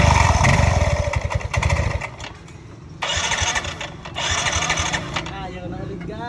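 A motorcycle engine, being revived after long neglect, cranks and starts, then runs with a rough rhythmic idle, revving up in two louder bursts, with people talking over it.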